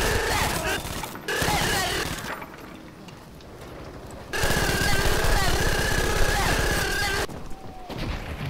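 Bursts of gunfire in Battlefield V, heavy rattling volleys starting and stopping in several loud stretches, with talk over the action.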